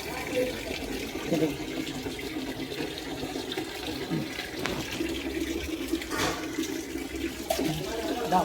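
Water runs from a tap at Vallalar's house in Chennai, a steady, moderately faint gush and splash that continues throughout, with voices faintly audible in the background.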